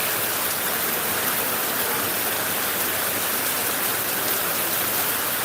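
Steady, dense rain pours down continuously, a loud broadband hiss with no breaks and no voices.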